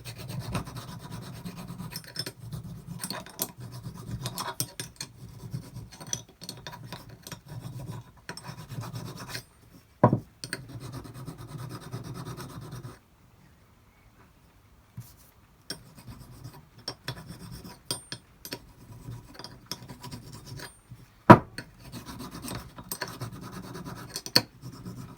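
A fine sharpening stone rubs and rasps over the metal parts of an SC3 geared scroll chuck to remove burrs, a steady close scraping in repeated strokes with a brief pause midway and a few sharp knocks.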